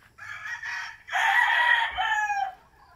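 A Hatch gamefowl rooster crows at a farm breeding pen, a close, clear call with a couple of short opening notes and then a long, drawn-out crow, alone without talk.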